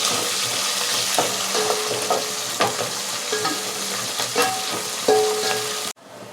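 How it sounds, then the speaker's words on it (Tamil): Onions and crushed garlic frying in oil for sambar, loud continuous sizzling with repeated spoon scrapes and clinks against the pan, ending abruptly. "இப்போ நம்ம வெங்காயத்தை நல்லா வதக்கி விடுவோம்"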